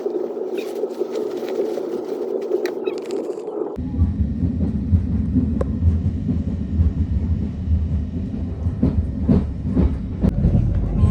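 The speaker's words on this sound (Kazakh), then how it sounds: "Алматыдан Қарағандыға бір пойызға мініп жатырмын да." A train rolls along the rails with a low rumble and rhythmic clatter, loud and steady, after a quieter humming interior start.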